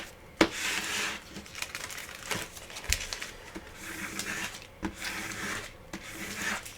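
A plastic scraper rubs firmly over Cricut transfer tape on a Halloween craft, making repeated raspy strokes with a few sharp ticks and short pauses between passes, close and without speech.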